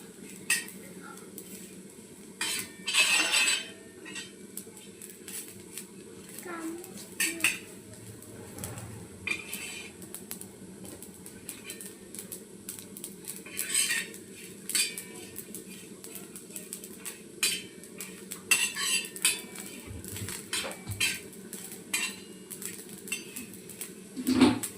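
Masala roasting in a pan is stirred with a utensil, giving irregular scraping and clinking against the metal over a low background hiss, with louder bursts now and then across a long stretch.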